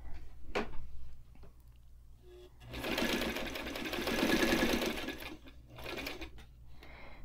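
A White 173 sewing machine stitching through several layers of fabric and batting: a short burst, then a longer steady run of rapid mechanical chatter, followed by a brief final spurt, close and fairly quiet.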